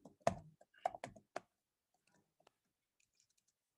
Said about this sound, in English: Is my typing okay?